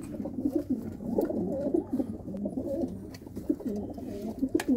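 Soft, repeated cooing of several pigeons close by at a pigeon-keeping gathering in Okhla, Delhi, overlapping low burbling calls continuing steadily without any talking.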